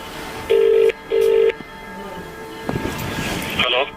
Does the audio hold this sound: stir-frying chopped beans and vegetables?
no